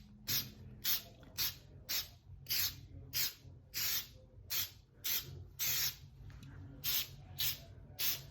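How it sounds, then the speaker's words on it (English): Short bursts of clear coat spray onto a small wood piece, about a dozen quick hissing puffs in an uneven rhythm, close and fairly soft, with quiet gaps between them. "I'm gonna go ahead and do a quick clear coat."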